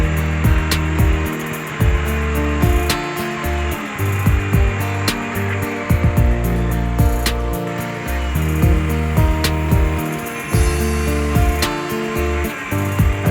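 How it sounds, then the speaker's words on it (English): Circular saw cutting across the edges of a glued-up wooden table, a loud continuous whine with a steady motor tone throughout, rising and dipping slightly as the blade moves through the wood. "we're just going to snip off the edges of the table with a circular saw and make it nice and square"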